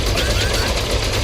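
Plasma casters blasting away in the Elite Dangerous space game, a dense continuous barrage of rapid energy-weapon fire with a heavy low rumble, loud and unbroken throughout.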